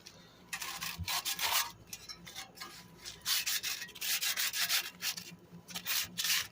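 Sanding a rough MTD lawn mower part by hand, steady scratchy rubbing strokes in bursts at close range, pausing briefly between passes, with no talking.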